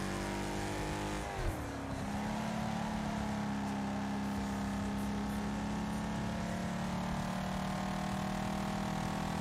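Race car engines in the video game Wreckfest make a continuous droning whine, with a pitch that dips sharply as a gear shifts and then settles into a steady high-revving hum, with other engines mixed in underneath.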